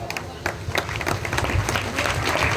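Audience applause at a head-shaving (mundan) ceremony celebration attended by film performers, a dense continuous patter of clapping that holds steady and slightly swells over a couple of seconds, with crowd noise mixed in.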